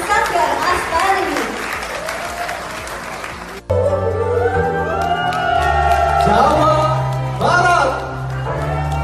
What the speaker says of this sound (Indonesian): tepuk tangan yang meriah untuk penampilan cantik dari Sanggar Astari